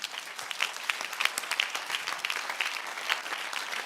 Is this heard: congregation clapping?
yes